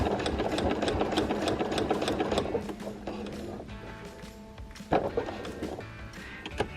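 A sewing machine stitches quilted coasters, its rapid mechanical chatter running steadily, then breaking into shorter bursts as single stitches are made at a corner without the fabric feeding forward.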